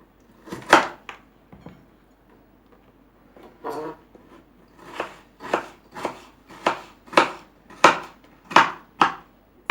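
A knife chops tomatoes into cubes on a cutting board, giving sharp isolated strikes at first, then a steady rhythm of about nine evenly spaced, fairly close thuds with quiet gaps between them.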